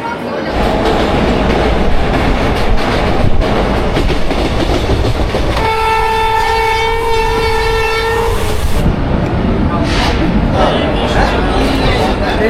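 The Ma Tara Express passenger train rumbles loudly along the rails from Kolkata toward Tarapith. A long, two-toned horn blares over the steady clickety-clack and wheel roar.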